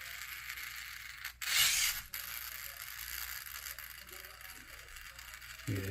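Pinion gear of an FCX18 LC80 RC crawler newly converted to a brushless motor, giving a crunchy, ratcheting mechanical whir that runs steadily, with a brief louder burst partway through.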